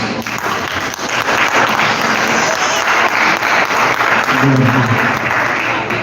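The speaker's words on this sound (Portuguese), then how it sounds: "Uma salva de palmas." A church congregation breaks into loud, sustained applause at an evening service, dense clapping filling the room with a brief tonal voice or music swell near the end.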